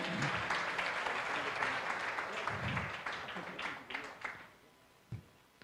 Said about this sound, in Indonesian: Tepuk tangan untuk para tamu kita hari ini.